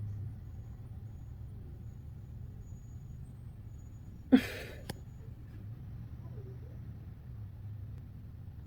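A truck parked outside releases air brake pressure in one short, sharp hiss, heard at a distance against a steady low background rumble, with a faint second puff just after.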